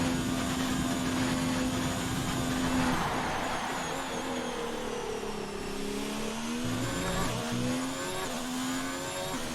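A Ferrari race car in F1 2019 on the Baku street circuit whines past, its high engine note sliding and shifting pitch as it approaches and pulls away, loud and close with no talk.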